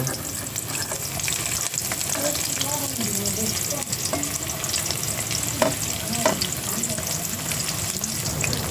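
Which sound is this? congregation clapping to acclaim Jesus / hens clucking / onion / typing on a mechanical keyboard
onion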